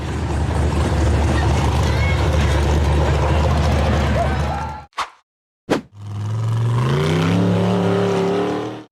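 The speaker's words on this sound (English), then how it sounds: "The buggy accelerated aggressively through the turn to conquer the steep dirt hill surrounded by rows of trees." A black off-road buggy with blue wheel rims revs hard and loud as it climbs a steep dirt hill among rows of trees, the engine roaring, cutting out briefly, then surging again with rising pitch.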